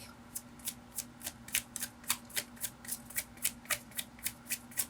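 A tarot deck shuffled by hand, a rapid run of crisp card riffles and taps at an even pace, close and fairly quiet over a low steady hum, with no talking.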